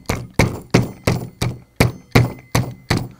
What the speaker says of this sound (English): An awl and a dead blow mallet will safely do the job.